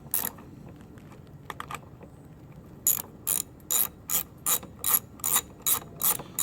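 Ratchet removing air cleaner bolts on a gas lawn mower, with a few scattered clicks and then a rapid, regular series of about nine sharp ratcheting bursts close by.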